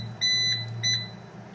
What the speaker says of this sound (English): It's one of the things I hate about this printer, this stupid beep.